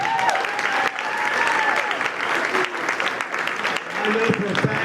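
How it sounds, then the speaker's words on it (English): Sustained applause from an audience at a county Republican meeting, steady clapping filling the room for several seconds with some crowd murmur mixed in. "How about a great round of applause for Brian and Kristen?"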